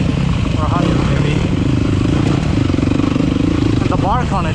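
Yamaha YZ250FX dirt bike ridden through technical woods, its engine running with a steady, barking exhaust note under continuous rider commentary.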